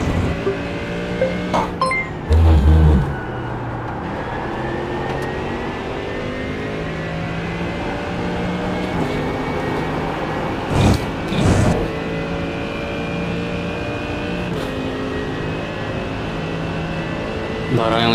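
A Mercedes-AMG GT race car screams through a GT Sprint race in a racing video game, the engine note holding a high, layered whine while it climbs and shifts, with brief thumps and clinks and a voice talking over it.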